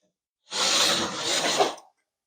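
A Ryobi 18V One+ P531 rotary speed saw plunges into and cuts plywood, a loud, steady rasping whine lasting about a second and a half, close by and with no talk over it.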